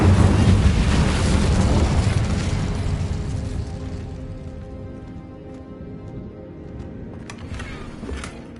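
The Incendio fire spell is cast in the video game Hogwarts Legacy, a loud whooshing burst of flame that rumbles and tails off over several seconds, with small crackles near the end.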